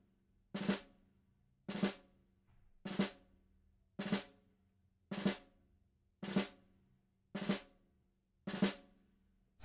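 Tight closed drags on a drum kit snare, eight crisp strokes evenly spaced about a second apart, the grace notes squeezed into each main hit, close and isolated without speech.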